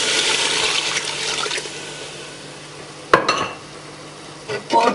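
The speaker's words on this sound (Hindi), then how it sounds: "अब हम तकरीबन इसमें 1 लीटर तक पानी डाल देंगे।" Water poured into a pot of fried beef nehari masala gives a broad, steady hiss and splash for the first seconds. It eases off, and then clatters and stirring bursts follow near the end.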